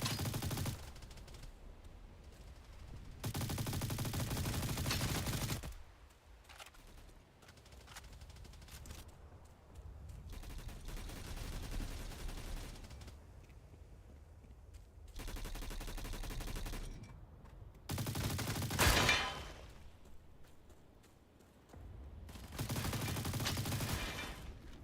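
Loud bursts of automatic gunfire from a QBZ Thunderbird rifle and other weapons in a first-person multiplayer shooter, coming in several sustained volleys separated by quieter stretches of distant shots and game ambience.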